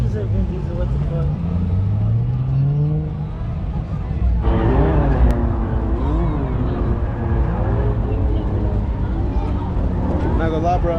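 A car drifts in the drift pit at an Atlanta car show, its engine droning and revving steadily under constant talk and crowd noise, with a rise in pitch midway.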